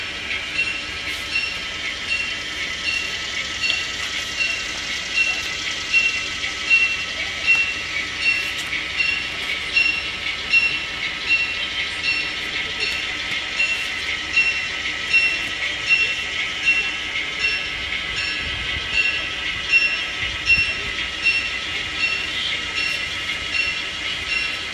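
The SA-35 train rolls into a rail yard on its return run, wheels clicking in a steady rhythmic clatter over rail joints beneath a sustained high metallic squeal, loud and close for the whole stretch.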